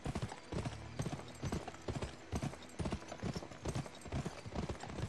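Horse hooves clip-clop in the Wild West video game Gun, a quick, steady, close stream of hoofbeats with a busy game soundscape around them.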